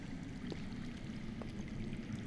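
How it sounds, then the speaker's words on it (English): Running water flows underground in a Game of Thrones video game, a steady low rushing and trickling stream heard continuously at moderate level with a couple of faint gurgles. "That's water. I hear water. From underground."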